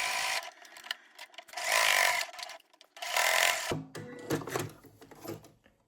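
A domestic sewing machine back stitches a quilted fabric zipper pouch, running in two loud motor-driven bursts separated by short pauses, then easing into lighter mechanical clicks and handling noises at the end.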